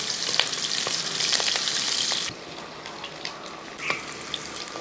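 Ginger, garlic and green chillies sizzle in hot oil in a pan, with a loud steady fry for about two seconds that then drops to a softer sizzle broken by sharp clicks of a spoon stirring.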